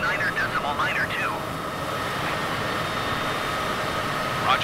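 A Cessna light aircraft's engine drones steadily in flight near Queenstown, New Zealand, a constant cabin hum beneath radio voices talking.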